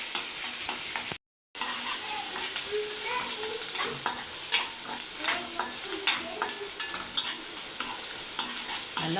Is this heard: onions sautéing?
yes